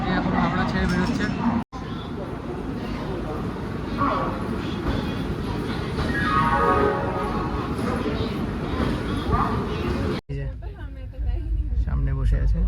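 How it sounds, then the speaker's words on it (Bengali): The Rajdhani Express pulls out of Howrah station with a continuous low rolling rumble from inside the coach, mostly under a voice talking, with a couple of brief cut-outs. "তো এখন আমাদের ট্রেন একদম রাইট টাইমে ছেড়ে দিয়েছে, 4:50-এ। এখন হাওড়া ছেড়ে বেরোচ্ছে।"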